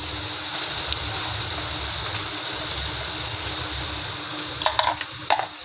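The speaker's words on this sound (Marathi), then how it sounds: "छान तेल गरम झालं आहे. त्याच्यामध्ये आपण कांदा आणि टोमॅटो टाकून घेऊया." Onion, tomato and garlic sizzle in hot oil in a pan, a steady dense frying hiss throughout with a few brief clinks near the end.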